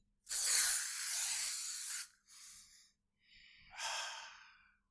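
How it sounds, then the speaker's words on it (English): A long hissing burst of aerosol body spray, then two shorter sprays close by, each a sharp airy hiss with brief pauses between. "I'm going to spray some on me right now"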